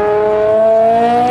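A race car on an autocross lap, its engine holding a loud, steady high-pitched drone with a slowly rising pitch, heard up close with no talk.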